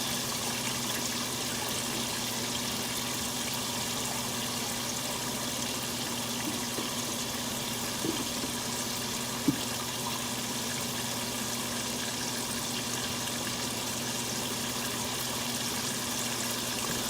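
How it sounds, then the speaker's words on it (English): Water runs steadily from a tap during handwashing, a faint continuous flow with a low hum beneath and a couple of small knocks. "Washing my hands."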